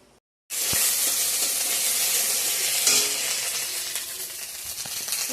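Whole spices hit hot oil as tempering for dal, a loud close sizzle that bursts in abruptly after a moment of silence and hisses on steadily.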